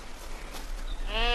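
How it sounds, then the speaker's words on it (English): A sheep bleats in snow, one wavering bleat at the end over steady wind noise. "The sheep are noticeably confused."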